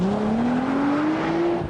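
An Audi RS4 Avant with 380 horsepower launches hard from a standstill, its engine note climbing steadily in pitch under heavy acceleration, loud and close throughout.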